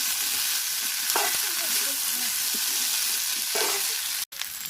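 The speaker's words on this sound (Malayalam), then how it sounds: "ഈ ഉപ്പൊന്ന് പിടിക്കുന്ന വരെ നമുക്ക് ഈ വെജിറ്റബിൾസൊക്കെ ഒന്ന് ഇളക്കി കൊടുക്കാം" Vegetables for a yam flower masala curry hiss steadily in a hot pan, with a few soft scraping stirs and one brief dropout near the end, with no talk.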